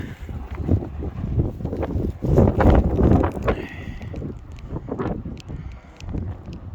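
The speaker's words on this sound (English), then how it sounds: "Wind gust which drives sand in the air" Wind gusts buffet the microphone on a volcano slope at Litlihrutur, Iceland, at night, driving sand through the air in loud, rumbling surges that swell and fade.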